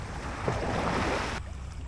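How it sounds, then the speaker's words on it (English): Ocean waves break and wash near Shikanoshima Island, a brief surge of broadband rushing water with wind noise that cuts off abruptly to a quieter hiss. "Waves crashing down."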